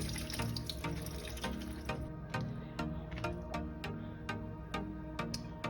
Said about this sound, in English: Run them under some cool water and just loosen them back up.